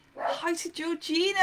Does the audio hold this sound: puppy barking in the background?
yes